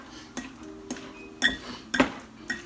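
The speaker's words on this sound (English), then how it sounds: "Chopping more." A knife chops avocados in a bowl for homemade guacamole, giving a few sharp clinks and taps against the bowl, spaced irregularly and close by.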